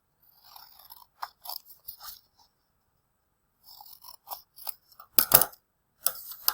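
Scissors cut out a paper shape in short bursts of snipping and crisp crunching, close and fairly quiet, with pauses between the cuts and a louder run of snips near the end.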